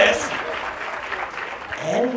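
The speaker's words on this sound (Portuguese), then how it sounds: "palmas pra esse nome, palmas" Audience in a live comedy show crowd applauding in a brief burst of clapping, mixed with voices and crowd noise, fairly even in loudness.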